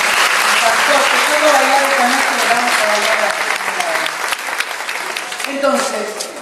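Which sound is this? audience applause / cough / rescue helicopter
audience applause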